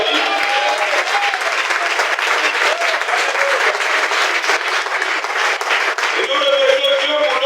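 A church congregation in Dolisie breaks into loud, sustained applause and cheering, a dense wash of clapping that carries on throughout, with a preacher's voice rising over the crowd near the end.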